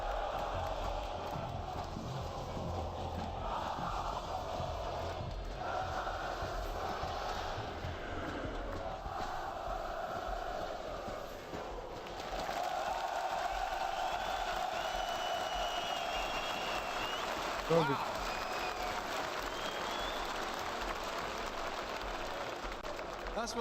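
A large esports crowd at a Counter-Strike 2 playoff event chants and cheers in a steady, roaring wash of voices that swells partway through, with scattered whoops and a brief sharp burst near the end.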